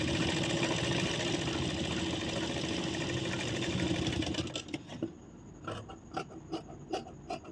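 A sewing machine stitches tucks into a blouse in a close, continuous whirring run for several seconds, then stops, leaving a few light handling clicks.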